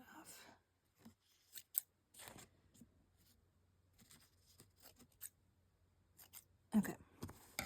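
Scissors snip stitched thread on a handmade junk journal cover: a few crisp, close cuts spaced irregularly, with soft paper handling between them and quiet background.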